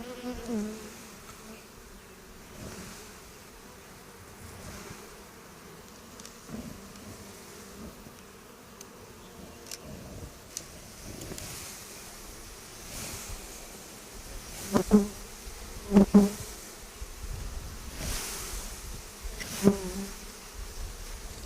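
Agitated honeybees buzz steadily around a hive, a dense droning swarm that rises in a few louder bursts near the end, with no talking.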